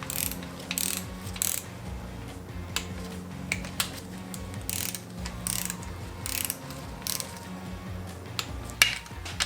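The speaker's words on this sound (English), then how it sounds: "So I'm just gonna snug down all our main caps first just to make sure they're all seated." Ratchet wrench snugging down the main bearing caps on a 1000 hp budget turbo truck engine build, a steady run of close, dry ratcheting clicks in short bursts with brief pauses between strokes.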